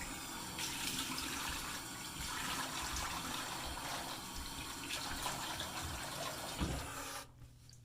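Water runs from a tap to rinse after a straight razor shave, giving a continuous close splashing rush with small surges that cuts off near the end.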